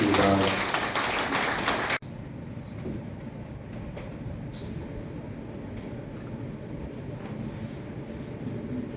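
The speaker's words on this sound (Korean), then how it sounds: "박수 부탁드리겠습니다" Audience applause at an open peace-and-unification forum for citizens and North Korean defectors: dense, even clapping for about two seconds that cuts off abruptly, leaving a low, steady room rumble.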